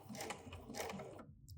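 Sewing machine running a short burst of pretzel-style securing stitches on quilting fabric, a steady close mechanical whirr that stops abruptly.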